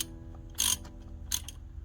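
A wrench tightens the alternator bolt on a Dodge 3500 diesel, giving two short metallic ratcheting bursts over a low steady hum, close and moderately loud.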